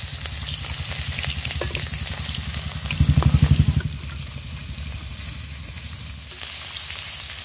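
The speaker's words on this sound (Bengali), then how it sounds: "মাছগুলো ভাজার জন্য দিয়ে দিচ্ছি সর্ষের তেল।" Rohu fish pieces frying in mustard oil in a wok, a steady loud sizzle with crackling spatters that swell briefly mid-clip as more fish goes in, with no talking.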